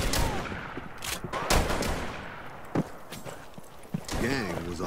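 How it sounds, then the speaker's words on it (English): Gunfire in a Western-style video game comes as scattered cracking shots over busy background noise, with a voice briefly heard among them. "Gunshots rang out."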